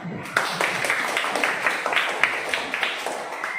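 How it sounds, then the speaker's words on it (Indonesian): A classroom of students claps together in a sustained, moderately loud burst of applause with many overlapping hand claps, heard nearby and without voices over it. "Silakan tepuk tangan"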